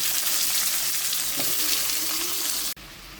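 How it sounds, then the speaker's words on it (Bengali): Papaya pieces fry in hot oil in a pan, giving a steady, loud sizzle that runs evenly and then cuts off abruptly near the end. "আর এই তেলেই আমি এই পেঁপেগুলোকে আমি ভেজে নিচ্ছি।"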